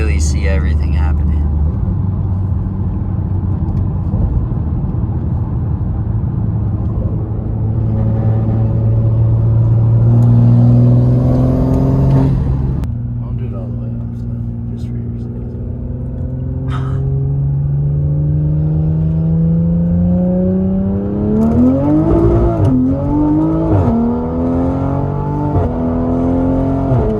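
A Toyota Supra mk5 fitted with a flex fuel kit accelerates hard through the gears, its engine droning and rising in pitch with each gear, then dipping at the shifts, loud and close from inside the car.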